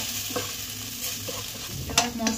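Spice masala of garlic, ginger and onion with turmeric, coriander, cumin and chilli powders sizzling in a pan while being stirred, steady close frying hiss with a few scraping stirs and clinks.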